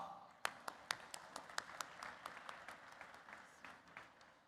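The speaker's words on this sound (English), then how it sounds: "let's give them a big round of applause" Sparse applause from a fintech conference audience for a panel, with distinct individual claps standing out over a soft bed of clapping that fades over a few seconds, faint and distant.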